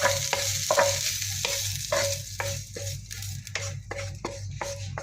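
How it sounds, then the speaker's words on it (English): Cooked bacon gets stirred into a cheese sauce in a pan, giving a steady sizzle with a regular run of scraping strokes, close and clear, with no talking. "I'm going to throw that into our cheese sauce."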